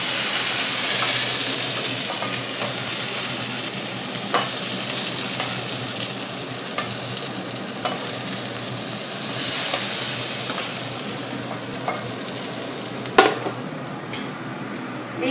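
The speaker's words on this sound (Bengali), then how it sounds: "পটলটা আমার ভাজা হয়ে গেছে" Pointed gourd (potol) fries in hot oil in a pan, a loud steady sizzle with occasional scraping and stirring clatters from a utensil, no voices over it.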